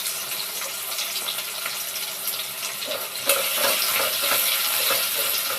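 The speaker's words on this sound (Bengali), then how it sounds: "পেঁয়াজ কুচিটা প্রথমে দিয়ে দিব" Chopped onion fries in mustard oil with black cumin for a rohu fish curry. A steady hiss swells into a louder, brighter sizzle partway through, with stirring clatter close by.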